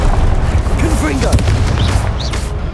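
Booming spell blast from the Confringo curse in the Hogwarts Legacy boss fight against the Pensieve Guardian, a loud dense rumble that fills the whole stretch with crackling bursts, while a voice shouts over it.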